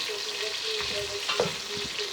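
Chopped onions with a pinch of salt frying in a pan and being stirred, a steady close sizzle with scraping spoon strokes scattered through it, no voices.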